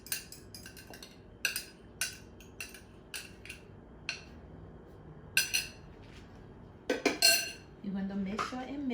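A utensil clinks and scrapes against a bowl while rice bread batter with egg and vanilla is stirred, sharp repeated taps at an uneven rhythm up close, with a short burst of speech near the end.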